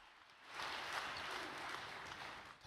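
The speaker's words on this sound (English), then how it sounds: "Let us give another round of applause to our President Lee Gi-sung" A faint round of applause from a congregation at a religious gathering swells in after a brief quiet start, stays fairly even, then tapers near the end.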